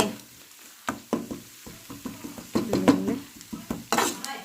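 Spice masala fries in a pan for a chicken curry, with irregular metal spatula knocks and scrapes over a low sizzle that builds toward the end, up close and with no talking.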